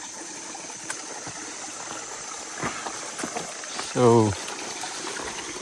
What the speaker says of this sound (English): Passing a creek. Pretty nice creek.